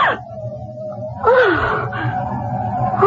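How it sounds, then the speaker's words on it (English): A woman in a radio drama gasps and moans in a tense, drawn-out breathy wail in a darkened doorway, close and loud, rising and falling over a few seconds. "As he passes a darkened doorway, he hears a gasp."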